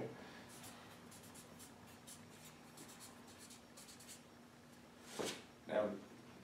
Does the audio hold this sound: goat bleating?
no